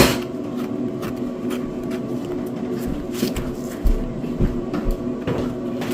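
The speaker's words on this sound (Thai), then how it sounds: "ลุงก็ล้างจานไม่หยุดเลยอะ่ะ" Clattering and clinking of dishes being washed outdoors in Sweden, with scattered knocks and scrapes over a steady low hum of running water, fairly close.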